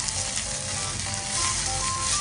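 Honey mustard chicken laid skin-side down in a hot pan sizzles and crackles loudly and continuously, with small pops scattered through the frying hiss.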